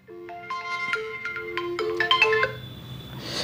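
A melodic phone ringtone plays a short run of bright electronic notes, fairly loud and alone with no talk over it, in a doctor's clinic.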